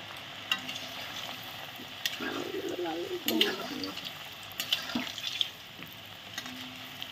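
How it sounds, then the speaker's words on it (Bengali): Bread gulab jamun balls frying in hot oil, dropped in one at a time, giving a steady close sizzle with stirring clatter and bubbling surges, with background noise throughout. "শিরাটা হয়ে গেছে, তেল গরম হয়ে গেছে। তেলে এখন ছেড়ে দিচ্ছি একটা একটা করে।"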